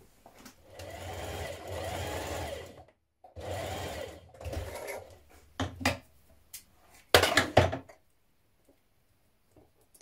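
A sewing machine stitches darts on a ruffle dress in several short runs of fast, buzzing stitches separated by brief stops. The final quick bursts give way to near silence.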